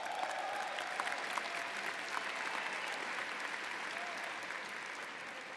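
Graduation audience at a business school commencement cheering and applauding for the global MBA students, a steady wash of clapping and crowd noise throughout with scattered whoops, fairly distant and even in level.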